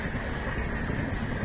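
A high-speed Shatabdi passenger train races past on an Indian railway line between Rajendra Nagar and Howrah at about 135 km/h, a loud, continuous rushing roar of wheels and air at close range.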